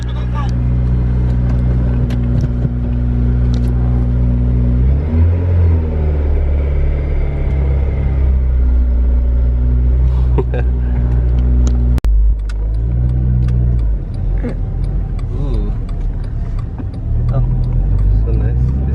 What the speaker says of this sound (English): Cold start of the day.